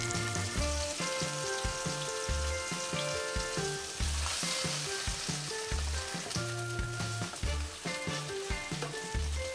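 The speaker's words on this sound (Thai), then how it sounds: "จี่เนื้อเบอร์เกอร์อันนี้กับกระทะเลยค่ะ" A pork-and-beef hamburger patty fries in a pan with a steady, close sizzle that crackles on without a break, alone with no talk.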